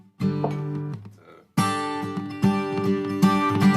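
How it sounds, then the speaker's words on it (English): An acoustic guitar in double drop D tuning, quite out of tune, is strummed with ringing chords struck several times and left to sustain between strums. "I did my first part in what they call double drop D."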